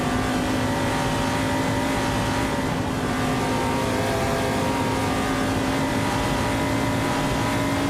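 A 1971 Mercury Cyclone and other racing cars in a video game race, engines droning loud and continuous with a steady high whine and no pauses.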